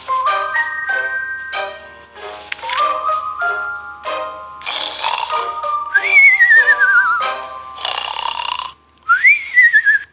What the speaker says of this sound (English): Grandma is snoring way too loud.